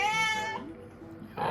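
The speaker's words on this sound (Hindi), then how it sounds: "बिल्ली इतनी क्यूट है ना ये।" A cat meows indoors at a home where air-conditioning repair work is underway, a short whiny cry with a clear harmonic stack, close and fairly loud, trailing off into quiet room noise before a second cry starts.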